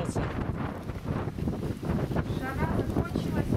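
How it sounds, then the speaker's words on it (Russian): Heavy wind gusts buffeting the microphone with rumbling bursts, while a person talks over the blustery noise. "О, ничего себе, ветер какой."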